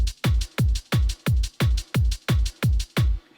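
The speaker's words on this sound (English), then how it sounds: "I've actually gone for a Euro trance beat on this keyboard." A Yamaha PSR SX900 keyboard plays the A variation of its Euro trance rhythm: a steady, loud four-on-the-floor bass drum thumping about ten times at an even, brisk tempo with bright percussion between the beats, then stopping.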